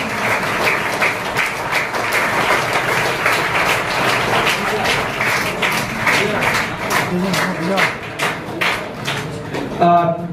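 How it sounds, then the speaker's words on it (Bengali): Students at Sundarban Adarsha Vaidyaniketan school in Basanti applaud a guest of honour, Dr Sadhan, with loud, sustained, dense clapping filling the hall and ending abruptly near the close. "ছাত্রছাত্রীদের বলছি তোমরা করতালির মধ্য দিয়ে ওনাকে সম্মানিত করো"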